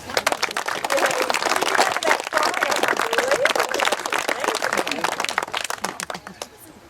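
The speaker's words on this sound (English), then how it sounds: "How about a clap?" Wedding guests clapping after the vows, a crisp burst of individual claps from a modest group, close and lively, with voices talking and cheering over the clapping as it tapers off toward the end.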